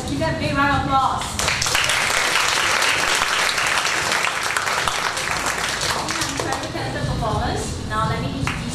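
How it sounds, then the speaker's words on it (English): Audience applause at a mini monologue performance, a loud, sustained burst of many people clapping that swells and holds, with a voice briefly speaking at the start and again near the end. "round of applause."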